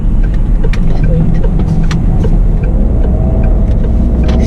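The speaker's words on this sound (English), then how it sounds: "So I'm just gonna do one U-turn for y'all to see how amazing this car is." A 2018 DS5 (Citroen) driving on the road and making a U-turn, heard from inside the cabin as a loud, steady engine and road rumble with no clear breaks.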